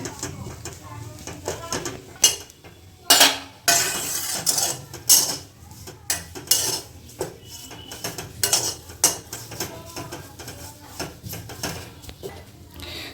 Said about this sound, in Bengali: কড়াইটা চারিদিকে ছড়িয়ে ছড়িয়ে আমরা ভালো করে ভেজে নিচ্ছি